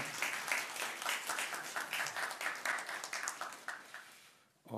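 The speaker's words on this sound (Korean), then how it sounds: "우리 수고한 모든 분들을 위해서 감사와 또 영광의 박수 하나님께 올려드립시다" A church congregation applauds during a Sunday worship service, steady dense clapping filling the room for several seconds before tapering off, with no talk over it.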